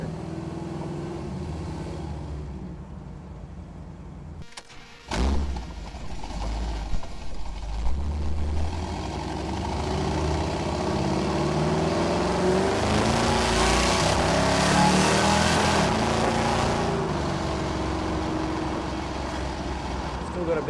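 A Plymouth Sport Fury GT luxury sport coupe drives along, its carbureted engine rumbling, then revving and pulling harder as it accelerates, a steady rising drone from inside the car while a person talks over it.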